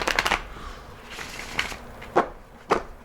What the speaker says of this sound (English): I'm shuffling them again now